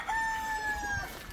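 A rooster crows once, loud and close, at a free-range country poultry farm under a bamboo shed.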